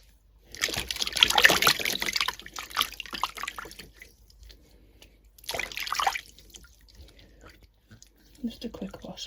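Hands get washed with soap under a running tap, with bursts of splashing and trickling water, a pause, then another short rinse, fairly quiet and close.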